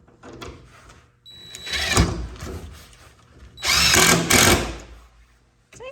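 A power drill bores into wood while a cathouse is being built, whining up in two loud bursts separated by quieter handling noises, close to the microphone.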